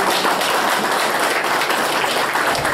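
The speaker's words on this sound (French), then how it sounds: "Je vous demande donc d'applaudir Ranida" A café audience applauds a birthday guest at a literary gathering, dense continuous clapping that is loud and close and lasts a few seconds.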